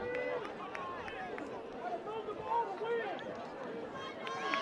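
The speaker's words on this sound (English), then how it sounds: "You can hear the crowd. They're wanting to move the ball to win." Crowd noise at a high school football game, Gunter Tigers at Howe Bulldogs, as a steady hubbub of shouting and chatter that swells briefly near the middle, with voices throughout.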